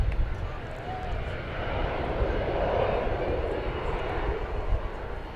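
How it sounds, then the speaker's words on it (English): An American Airlines Airbus A321 arriving from San Diego at Dallas/Fort Worth Airport gives a steady, broad jet engine roar that swells gently in the middle of the clip and then eases, sounding moderately distant. "It's an Airbus A321."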